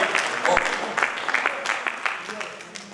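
Scattered applause from a seminar audience, moderate and uneven with distinct individual claps, while someone speaks over it.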